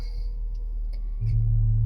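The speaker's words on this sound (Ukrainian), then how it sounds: "Послухати роботу двигуна." A quiet background hum gives way to a steady, low engine drone from a 2012 Audi Q5 that starts partway through and keeps running evenly to the end.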